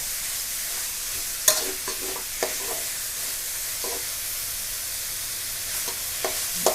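Minced pork is stir-fried in a pan, a constant close sizzle with occasional spatula scrapes and taps scattered through it.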